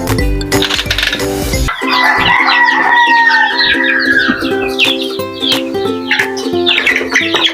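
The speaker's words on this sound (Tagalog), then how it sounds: "Dito naman tayo magpakain sa mga sisiw natin mga idol." Chicks being fed, with a sharp metallic rattle of feed at the start, then lively high chirping from many chicks along with other fowl calls, close and busy throughout with no talk.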